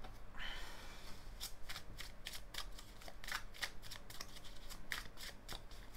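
A tarot deck is shuffled close by, a continuous run of crisp papery riffles and rapid card flicks at a soft, even level with no talking.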